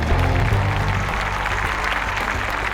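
Loud, thunderous applause fills the hall as a pageant contestant is called up at a Miss Bhavani Nagar competition, dense clapping that swells early then holds steady, with a crowd around.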